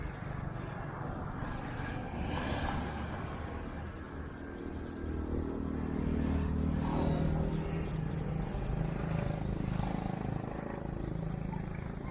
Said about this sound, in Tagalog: Brushless motor,